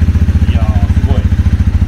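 A 2019 Honda CB250F motorcycle engine runs loud and close, with a steady, rapid throbbing pulse that holds evenly throughout and only faint hints of other sounds behind it.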